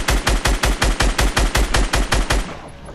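Machine gun fire in a video game rattles out as a loud, fast, even burst of about a dozen rounds, then cuts off sharply and fades over the last half second.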